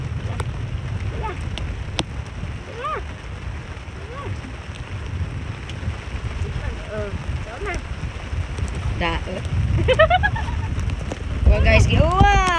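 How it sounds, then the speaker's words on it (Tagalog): Rain hisses steadily over open sea around a small traditional fishing boat, mixed with gusty wind on the microphone and building louder toward the end, with occasional voices in the background. "It's raining guys."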